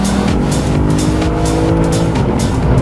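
A modified Lexus IS F accelerates hard on a highway, heard from close by, with a loud, continuous engine roar whose harmonics climb steadily as it pulls through the gear.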